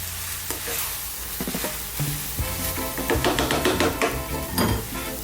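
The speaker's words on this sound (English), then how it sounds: "Keep stirring all the time now." Prawn noodles sizzle and crackle in a hot pan over high heat while being stirred constantly, with a steady frying hiss broken by repeated scraping and clattering strokes of the utensil.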